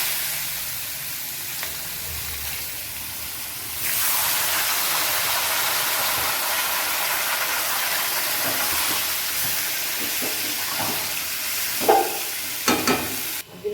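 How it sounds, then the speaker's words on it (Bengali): Ash gourd and fenugreek seeds hit hot oil with a loud, steady sizzle that swells abruptly a few seconds in, followed by scattered clinks and scrapes of stirring near the end. "মেথি ফোড়ন দিয়ে দিচ্ছি। চাল কোমরটা দিয়ে দিচ্ছি।"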